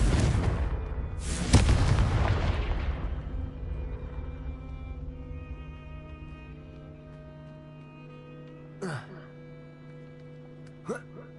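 A fiery Confringo spell blast in the video game Hogwarts Legacy goes off with a loud booming burst near the start, then a long rumbling decay under a steady musical drone, followed by a couple of small later pops.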